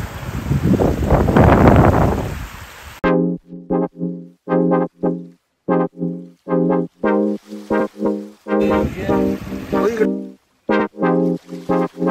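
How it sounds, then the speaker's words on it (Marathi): Strong wind roars loudly into the microphone at the start, then continues in gusty bursts. "हवेचा वेग किती असेल."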